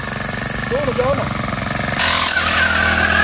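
A grass cutter engine runs at a fishpond, a steady buzzing drone that grows slightly louder partway through while a person talks over it.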